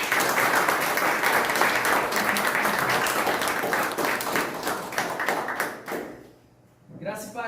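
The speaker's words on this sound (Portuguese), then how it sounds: "Vamos aplaudir ao Senhor." A church congregation applauds in a sustained burst of clapping that fades out near the end, and a voice then speaks briefly.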